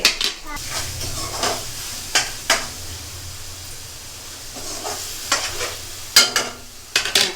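Small fish pieces fry in a pan for a curry, a steady hissing sizzle with occasional sharp clinks and scrapes of a spatula against the pan, close and fairly loud, without speech.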